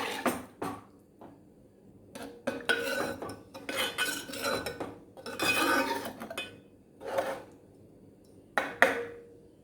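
A utensil scrapes and clinks against a cooking pot in bursts as a watery egg curry is stirred, with short pauses between strokes and no talking.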